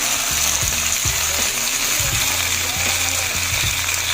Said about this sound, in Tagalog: kulo na yung ating sardinas